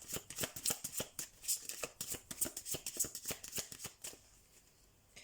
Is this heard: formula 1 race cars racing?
no